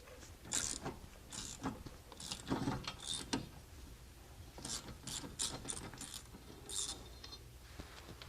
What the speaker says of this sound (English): And then the pin, it's a deep socket 10mm.